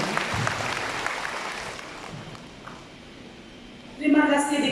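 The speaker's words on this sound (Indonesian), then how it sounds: "Mari kita beri tepuk tangan yang gemuruh kepada Pastor Tina Itin" Applause from the audience at a church women's conference session in Kundasang, Ranau, Sabah: a steady wash of clapping that slowly fades, then a voice starts speaking over its last moments.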